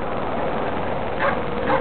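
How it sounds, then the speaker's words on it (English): A small dog barking in quick yappy bursts, close and loud over steady background noise, with no voices. "just check out that little dog over there"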